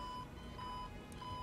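Heart rate monitor in a video game, emitting a steady electronic beep that repeats roughly every half second, thin and moderately loud over a low background hum, with no talking.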